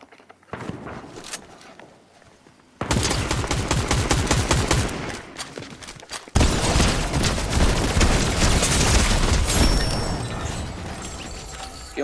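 Rapid video game gunfire rattles in dense bursts, first fainter and distant, then loud close volleys of automatic shots that continue steadily to the end.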